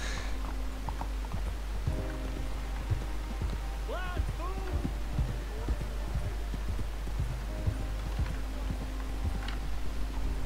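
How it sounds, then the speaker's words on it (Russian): Horse hooves clip-clopping at a steady walk in Red Dead Redemption 2, soft rhythmic thuds under a constant low hum, with a brief faint animal-like cry midway. "У тебя даже лошадка своя тут есть."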